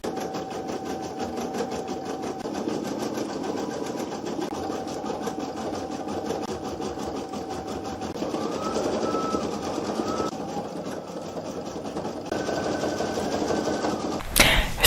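Embroidery sewing machine stitching out a design in green thread, played back sped up: a steady, dense mechanical whir and rapid needle chatter running continuously throughout, close and even in level, with a brief louder burst at the very end.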